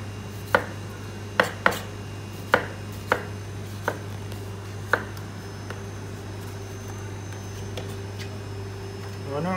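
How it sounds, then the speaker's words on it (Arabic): A knife cuts tomatoes into rings on a board, about seven crisp chopping knocks in an uneven rhythm over the first five seconds, then quiet. A steady low air-conditioner hum runs underneath. "هنقطع الطماطم سلايز حلقات"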